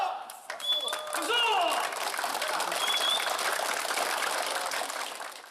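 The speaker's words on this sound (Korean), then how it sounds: "박수!" Applause from a crowd of Buddhist pilgrims on a long walking pilgrimage, breaking out after a shouted chant; steady dense clapping throughout, fairly loud and close, with scattered voices calling over it.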